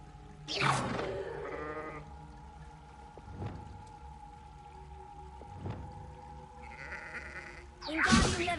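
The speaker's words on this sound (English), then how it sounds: "What are you doing with a sheep?" A few sheep bleats ring out at the start and end in Hogwarts Legacy, with quiet thuds and a steady low hum between them.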